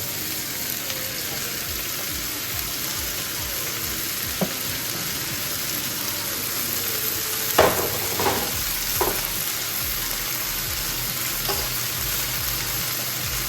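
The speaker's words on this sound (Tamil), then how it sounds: "இந்த கரட்டையும் உருளைக்கிழங்கையும் போட்டு வதக்குறீங்க" Carrot and potato pieces sauté in a hot pan with onion, giving a steady close sizzle throughout, broken by a few sharper scrapes and clacks of stirring.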